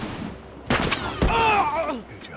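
Gunfire in The Last of Us comes as a couple of sharp, loud shots in quick succession, each one ringing out briefly over a quiet background.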